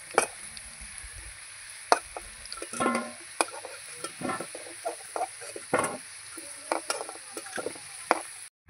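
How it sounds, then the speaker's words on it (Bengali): Potatoes frying in oil in a pan, a faint steady sizzle broken by irregular spatula scrapes and clicks against the metal, close and quiet with no talking. "এই যে আমার আলুটা কিন্তু ভাজা হয়ে গেছে লাল লাল করে।"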